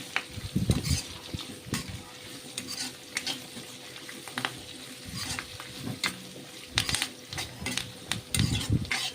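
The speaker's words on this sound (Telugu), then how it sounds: "ఎండుమిరపకాయలు, కరివేపాకు, ఆవాలు అన్నీ వేసుకొని బాగా కలుపుకోవాలి." Dried chillies, curry leaves, garlic and mustard seeds stirred in a hot pan for a dal tomato tempering: steady sizzling and frying with repeated scraping and clinking of a spoon against the pan.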